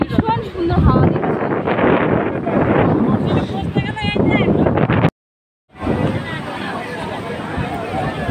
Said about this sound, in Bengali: ভীষণ সুন্দর হাওয়া দিচ্ছে।